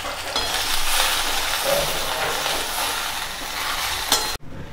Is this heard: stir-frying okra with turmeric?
yes